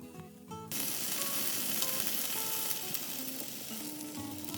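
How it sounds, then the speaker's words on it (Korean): Oysters sizzle and fry in a pan over medium-high heat for Korean oyster pancakes, a dense, steady crackle that starts abruptly and keeps going loud and close, with no talking. "팬 위에 굴을 모두 올려주었으면 불을 중강불로 올려 앞뒤로 노릇노릇하게 익혀주세요"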